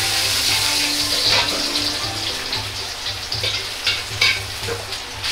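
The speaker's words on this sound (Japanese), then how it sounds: "生姜を炒めます。" Ginger sizzles and crackles steadily as it is stir-fried in oil, with occasional scraping and clinks from a utensil in the pan.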